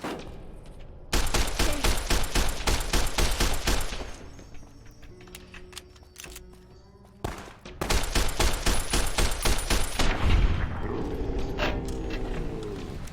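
Rapid automatic gunfire from a 5mm gun in Fallout: New Vegas rattles out in two long, loud sustained bursts separated by a pause with mechanical clicks, with no talking.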